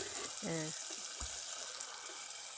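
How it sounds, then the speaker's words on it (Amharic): Sizzling in a pot of frying onions with a brief splash of water dripped in and crackling, a short tonal note near the start. "ሽንኩርታችሁን ከጠበሳችሁ በኋላ እንደዚህ ውሃ ጠብ እያደረጋችሁ"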